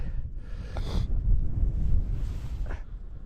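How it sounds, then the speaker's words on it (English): Wind gusting across an open winter wild camp in the Yorkshire Dales, a steady low rumbling buffet against the microphone with brief rustling flurries, no voices. "the wind's just picked up a bit as well"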